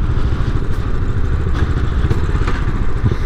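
A custom Royal Enfield Scrambler 500 motorcycle engine idles with a steady, loud, low rumble and light mechanical clatter, close by and continuous throughout.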